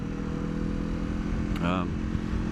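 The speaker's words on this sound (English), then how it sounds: "Heat the bike up, get some running heat through it." A motorcycle engine idles steadily in cold weather, warming up with a low continuous rumble, and a brief higher whine cuts in partway through.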